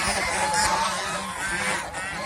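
A flock of domestic geese honks together on a goose farm, a steady overlapping chorus of nasal calls held close and loud for the whole stretch.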